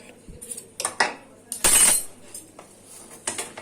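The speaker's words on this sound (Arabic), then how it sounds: "حالا هقلب البصل" Onions being stirred in a cooking pot, a metal spoon clinking and scraping against the pot in several irregular, close bursts with short pauses between.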